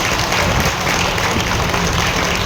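A crowd at a Tamil pattimandram debate event applauds loudly and continuously, a dense wash of clapping throughout.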